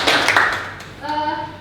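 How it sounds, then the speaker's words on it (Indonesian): Audience clapping at an Indonesian teacher-training session on differentiated learning, a short burst of applause from a room of participants that fades within about a second as a voice starts speaking over it. "Tepuk tangan."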